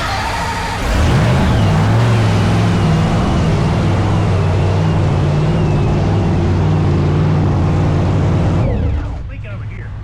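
A blower-equipped engine fires back up after a leak repair, catching with a rumble and settling into a loud, steady drone with a deep tone before it cuts off and drops away near the end.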